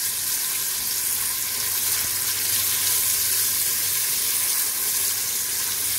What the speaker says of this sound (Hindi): प्याज को आपने लाइट गोल्डन फ्राई करना है।